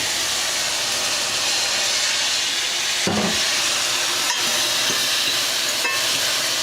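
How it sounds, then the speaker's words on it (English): Water dropped into a hot pan of mushrooms and vegetables steams with a loud, continuous broadband hiss, close and unbroken, with a few faint clicks of utensils. "just drop a little water on it so it can do some steam."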